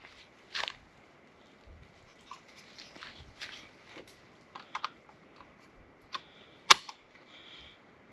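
A restored rifle's action is worked with a round chambered and a loaded magazine inserted, giving scattered sharp, close metallic clicks and clacks, with one louder snap near the end against a quiet background.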